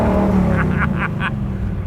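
A 1968 Ford Mustang Fastback engine rumbles low and throaty close by in a short burst, with a voice speaking briefly over it.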